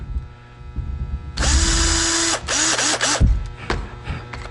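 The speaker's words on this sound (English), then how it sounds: "So we always start drilling straight." A power drill driving a screw into wood whirs up in a loud burst, stops, then runs in several shorter spurts before cutting out, close by and with no talking.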